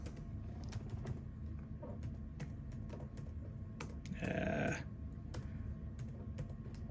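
Fingers tap across a computer keyboard running Windows XP, a sparse run of light, close clicks spaced irregularly, with a brief louder rustle midway.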